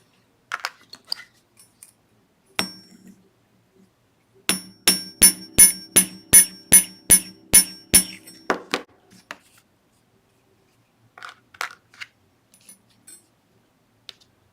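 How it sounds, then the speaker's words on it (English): A small hammer taps wire for beaded earrings in a quick run of about ten sharp metallic strikes, preceded by a few scattered clicks and followed by light handling noise. "And I'll hammer that just slightly."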